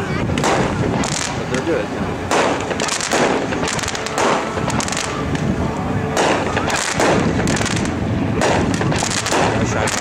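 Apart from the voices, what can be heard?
old 20-shot red, white and blue fireworks cake exploding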